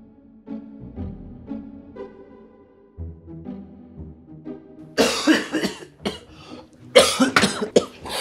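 Several harsh coughs burst out loudly near the end, following a stretch of quieter low murmuring and background sound.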